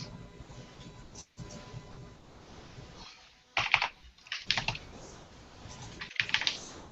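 Keystrokes on a computer keyboard, typing a short command, with bursts of quick clicks separated by brief pauses, close and fairly quiet.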